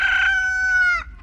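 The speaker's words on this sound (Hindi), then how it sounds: "मुर्गा भी अभी बांग दे रहा है" A rooster lets out a single loud, close crow at dawn in a village, one sustained rising-then-falling call lasting about a second before breaking off.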